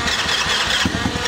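Small quad bike engine firing up for the first time, a loud close burst of sputtering engine noise that catches and runs rough for a moment.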